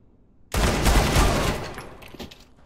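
Burst of rapid gunfire in a competitive shooter match, a loud sustained volley that starts abruptly and trails off over about two seconds, with no talking.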